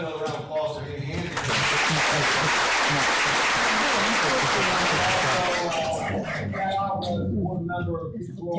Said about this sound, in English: Ladies and gentlemen, how about another round of applause for Amy Handy?